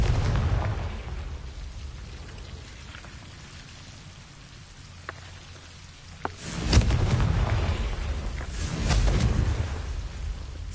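Confringo fire spell blasts in Hogwarts Legacy: two heavy, booming bursts about two seconds apart, each swelling and fading over a steady hiss of rain-like ambience, with a couple of sharp clicks before them.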